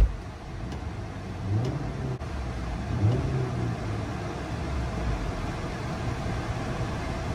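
A 2019 Honda Accord 2.0T fitted with an upgraded throttle body idles with a steady, close, low engine rumble and one slight blip early on, with no voices.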